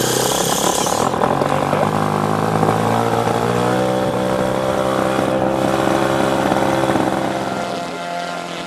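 A model airplane engine screams at full throttle, high steady revs with a buzzing, whining drone that shifts pitch slightly, loud and close throughout.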